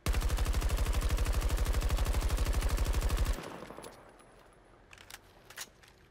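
Rapid automatic gunfire in Battlefield 2042, a loud, evenly spaced burst of shots lasting about three seconds that stops abruptly, followed by quieter clicks and metallic handling sounds.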